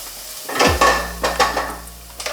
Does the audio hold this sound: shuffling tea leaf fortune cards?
no